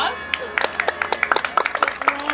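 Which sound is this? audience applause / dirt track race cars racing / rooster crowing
audience applause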